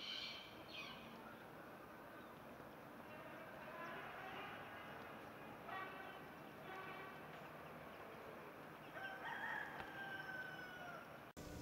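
Roosters crow in the morning in the town of Berastagi, Sumatra, faint and distant calls rising now and then over a low steady ambient hum.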